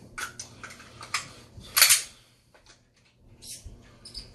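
Dry-fire pistol practice with a reload: a few light clicks and metallic clacks, then one sharper snap of the magazine or slide, close and quiet against a faint background hum.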